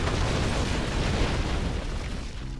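V3 rocket launcher igniting in Red Alert 2, a dense, loud, steady roar of blast and rumble that fills the whole moment without letup.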